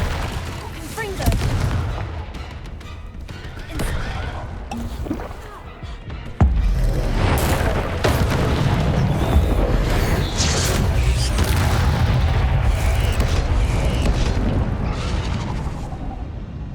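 A Confringo spell explosion in Hogwarts Legacy, a sudden sharp blast partway through amid combat noise and movement, with a voice heard earlier.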